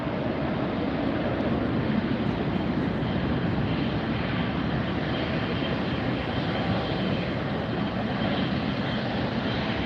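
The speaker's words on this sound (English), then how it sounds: "Here comes a big British Airways making the turn." A big British Airways airliner turns near LAX airport, its engines a steady broad roar holding evenly at moderate distance for about ten seconds.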